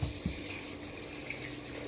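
Water runs steadily from a kitchen tap as things are rinsed off, a constant close hiss and splash with a couple of faint knocks near the start.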